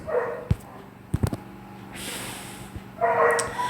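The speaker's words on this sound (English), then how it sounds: "Sorry about my dogs" A few short dog barks and yips pop out at irregular moments over a murky background, fairly close, with some broad noisy bursts between them.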